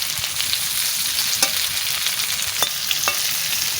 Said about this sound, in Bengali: এ দেখো পাপিটা কীরকম করে আমি ভাজা করে নিচ্ছি